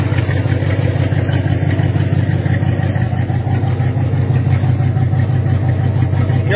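A 1957 Chevy engine idling in place, a continuous loud low rumble with a steady mechanical clatter throughout and no speech.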